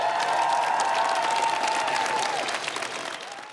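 Sustained crowd applause for a departing prime minister walking to the gates outdoors, loud and steady clapping with a whistle tone running through it, fading slightly toward the end.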